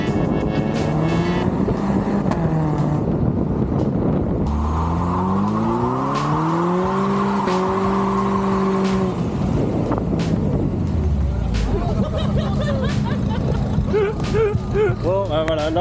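A Mercedes SLK 230 Kompressor convertible is driven hard on the Linas-Montlhéry circuit, its engine note rising and falling in long sweeps with tire squeal, while people talk loudly over the car throughout.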